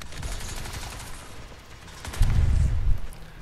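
Gunfire in Crysis 2 multiplayer crackles in rapid bursts, with a heavier, booming volley of shots swelling loudly near the end; dense and close.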